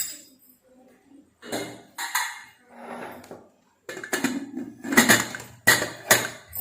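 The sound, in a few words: closing the lid of a pressure cooker with vegetable soup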